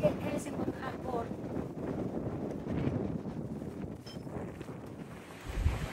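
Strong wind buffets the microphone on the open deck of a ferry crossing from Helsingborg to Helsingør, a steady loud rush with low boat rumble and brief talk underneath.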